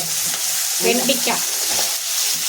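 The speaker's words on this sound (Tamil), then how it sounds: "கரண்டியை வச்சு கிண்டுதாங்க" A ladle stirring a pot of tamarind curry with okra on the stove, steady close scraping and sizzling throughout with a few soft clinks in the middle.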